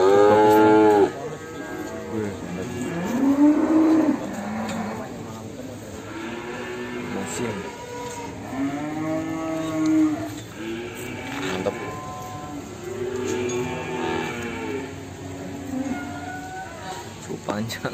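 Cattle and calves moo repeatedly at a calf sale in Ambarketawa, long low bellows rising and falling one after another, with a person talking nearby between the calls.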